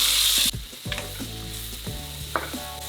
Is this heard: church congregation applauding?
no